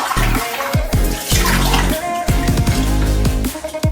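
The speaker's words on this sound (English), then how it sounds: "We're gonna go ahead and rinse that." A Henson Ti22 razor is rinsed under running water, a loud close splashing gush with fluctuating spatter and drips, no talk over it.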